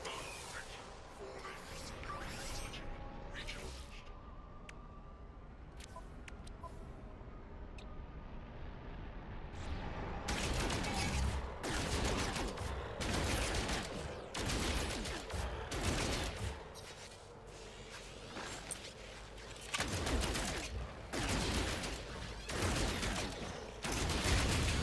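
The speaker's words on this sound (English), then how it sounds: "Just shooting this down with a standard bolt caster." A bolt caster fires repeated rapid volleys in a video game, with sharp crackling shots coming in dense, uneven bursts that grow louder and more continuous partway through.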